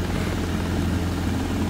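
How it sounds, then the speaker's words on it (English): A helicopter in flight over open countryside near the town of Foxton gives a loud, steady engine and rotor drone that holds evenly throughout, with no talking. "Helicopter flying along quite nicely now."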